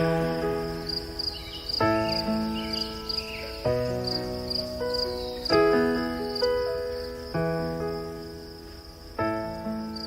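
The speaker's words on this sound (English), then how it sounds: "You can hear that sound, crickets in the background." Crickets chirp in quick, regular pulses in the background outside a parked Chevy with the window down, over louder music with sustained tones.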